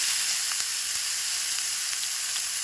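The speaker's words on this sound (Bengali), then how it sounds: "তেলটা গরম হয়ে গেছে, এর উপরতে আমি আলুটা দিয়ে ভেজে নেব।" Potatoes frying in hot oil, a loud, continuous hiss of bubbling fat that stays even from start to finish, with no voices.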